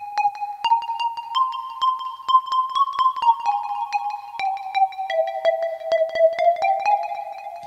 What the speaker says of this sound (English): I used a preset called Plucko Bar.